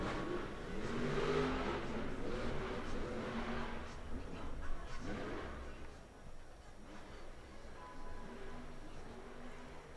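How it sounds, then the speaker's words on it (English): Monster truck engine revving hard at a Monster Jam arena show at Atlanta Motor Speedway as the truck whips around, a loud continuous roar with surging throttle under arena noise and announcer talk. "Under a minute now for Zombie as Bari Musa whips the truck right back around."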